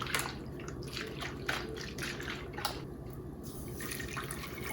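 Water is poured and swirled into a mixer jar during home cooking, giving close, splashy pours with drips and trickles in uneven bursts, no voices present.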